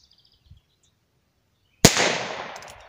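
A single sharp gunshot from a Heritage Rough Rider .22 LR revolver fired outdoors, a loud crack that decays gradually, preceded by near silence with a faint small sound.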